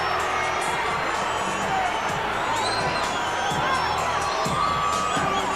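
Arena crowd at the Roy Jones Jr vs James Toney boxing fight roaring and cheering steadily with scattered whoops, a dense continuous wall of noise throughout.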